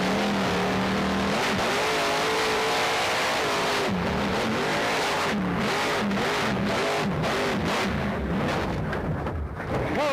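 The Grave Digger monster truck's engine roars and revs loudly and continuously, surging and dropping in pitch with rough, booming bursts, at a 1997 monster truck event.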